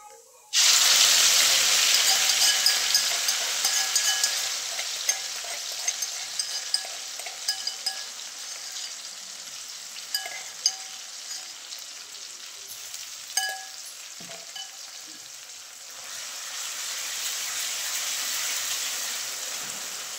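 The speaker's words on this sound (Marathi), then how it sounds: "तेल गरम झाले तर त्याच्यामध्ये जिरे टाकते आणि हिरवी मिरची आणि लसूण बारीक करून घेतलेला." Cumin seeds, chopped green chili and crushed garlic hit hot oil with a sudden loud, steady sizzle that crackles and spits close by, easing slightly toward the end with occasional clinks and no talking.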